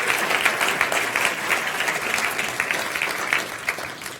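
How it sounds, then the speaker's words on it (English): Sustained, dense applause from a large audience at an international science-communication competition final at a festival, steady and loud for the whole stretch without letting up. "Clap happily, please, one more time for our almost homegrown Marcia Brandenburg Goddard"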